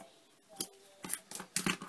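Scissors trimming excess paper and tape while covering the spine of a handmade mini album: several quiet, crisp snips, closer together toward the end, with no talking.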